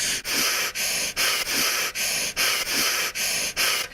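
Imitated heavy, rhythmic breathing right against a microphone, each loud airy breath broken by brief pauses, close and roaring like a mask respirator.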